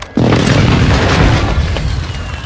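A loud, close airstrike blast in Call of Duty Warzone 2.0 bursts in with a sudden heavy boom and rolls on in a rumbling crash that fades slowly over a couple of seconds.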